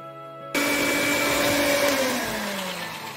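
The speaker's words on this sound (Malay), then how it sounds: "sekarang pukul dulu butter dengan gula hingga kembang" An electric mixer switches on abruptly and runs at a steady, loud whine while beating butter and sugar for a butter marble cake, its pitch sagging slightly as the mixture thickens.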